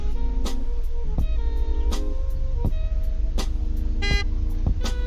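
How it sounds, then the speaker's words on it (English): The default horn of a SWAT car in the video game Unturned, from Zoli's Emergency Vehicles mod, gives several short, separate toots over a steady engine drone, close and clear. "The default horn."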